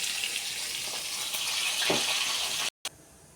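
Potatoes frying in hot oil give a steady, close hiss and crackle, broken by a short silent gap near the end before a quieter sizzle resumes.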